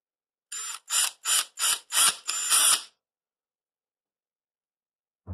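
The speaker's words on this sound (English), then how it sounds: "Watch out when you're drilling plastic." A drill bores into plastic in six short, loud bursts a fraction of a second apart, each a shrill whine, then silence follows with a faint thump at the very end.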